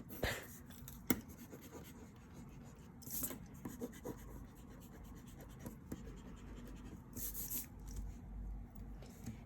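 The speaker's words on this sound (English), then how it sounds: "I'm gonna erase the lines on the inside." Pencil lines being erased from a paper piñata drawing, a steady soft rubbing and scratching close by with a few sharper scuffs, no talking.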